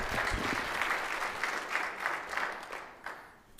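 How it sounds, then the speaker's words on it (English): Audience applause at a 25th anniversary conference, a steady wash of many hands clapping throughout, swelling and fading slightly in uneven waves before tapering off near the end. "I think we should give a little hand clap for that"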